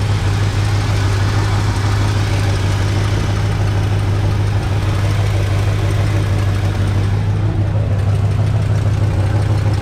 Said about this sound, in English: I'm gonna let this thing idle for a while and warm up.